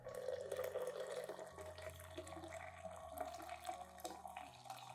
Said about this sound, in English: add 500 milliliters of hot water to soak the mixture.